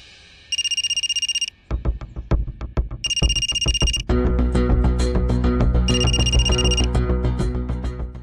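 A phone ringtone rings in bursts of bright electronic tones, three rings with gaps between them, over a busy background of rhythmic music and clatter in a Marathi television drama scene.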